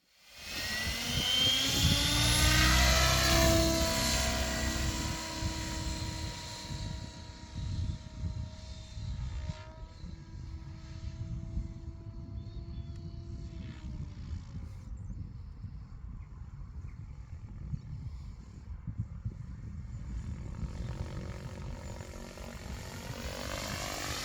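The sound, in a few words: Tron 7 Elite 12S 700 RC helicopter autorotation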